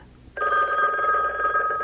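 A telephone bell rings steadily and fairly loud, starting abruptly after a short quiet moment and sustaining its buzzing trill to the end, with no voices over it.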